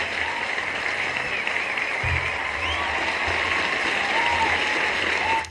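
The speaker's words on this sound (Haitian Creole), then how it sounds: "Bat bravo pour la jeunesse" A crowd applauds steadily and fairly loudly at a live show with an announcer, the clapping sustained throughout with faint voices mixed in.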